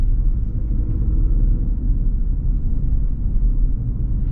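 A Toyota Tacoma Trailhunter's engine pulls under throttle as a steady, loud, low rumble that holds even and unbroken, with no voices over it.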